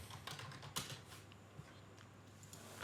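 Rapid clicks of fingers typing on a computer keyboard while working in the Unreal Engine 4 editor, short irregular bursts of keystrokes at close range with a couple of sharper key strikes.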